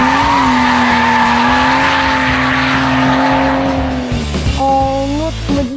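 A drift car slides in a long, loud, close tyre squeal mixed with a roaring engine, which shifts pitch and breaks into shorter squeals near the end.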